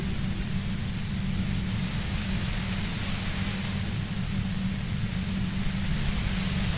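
Steady broadband white noise static from the video game Disco Elysium, a constant loud hiss with a heavy low rumble underneath, running unbroken throughout.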